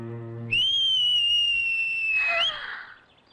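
A single sustained human whistle holds one steady high pitch for about two seconds, then rises briefly and cuts off. It sounds close and clear over faint background.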